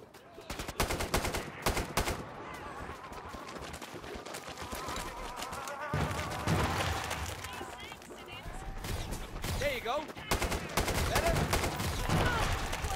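Gunfire in the video game Killing Floor 2 on the Outpost map comes in rapid automatic bursts and single shots, close and loud, repeating through the whole stretch with players talking over the shooting.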